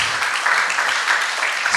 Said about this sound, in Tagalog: Isa pang malakas sa palakpak sa ating Panginoon